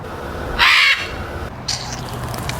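Birds call at Palm Beach Zoo in West Palm Beach, Florida: a loud, harsh crow-like caw bursts out near the start, followed by a fainter squawk shortly after, over steady outdoor background noise.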